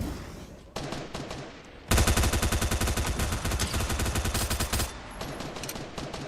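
An SMG in a video game fires in a rapid, loud automatic burst lasting about three seconds, with scattered shots before and after.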